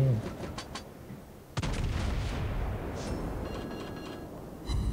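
Naval gunfire in the World of Warships Blitz game, with the Almirante Barroso Pan-American cruiser in battle: a sharp cannon blast followed by rumbling booms and distant shell impacts over a continuous low battle din.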